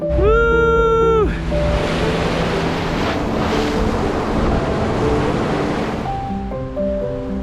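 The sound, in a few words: ocean waves on the beach in Tulum, Mexico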